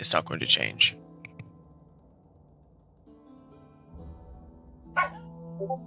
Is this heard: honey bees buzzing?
no